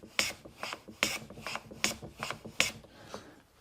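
A hand-made Krenov-style wooden shooting plane with a freshly sharpened iron takes passes along a piece of maple. Each stroke makes a close, crisp rasping swish, coming at a steady rhythm of about one pass every second with nothing else heard.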